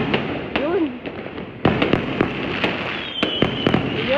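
Firecrackers and fireworks go off all around a house during Chinese New Year, a rapid run of loud, near cracks and bangs with whistling streaks between them, alongside voices.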